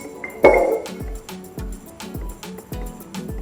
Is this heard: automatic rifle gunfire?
no